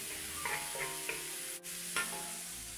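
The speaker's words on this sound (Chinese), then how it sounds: "看一下你妈妈炒菜呀" A spatula scrapes and stirs dried shrimp in a home wok, with a few distinct clinks and soft scraping strokes over a low, steady background sizzle, close by and moderately quiet.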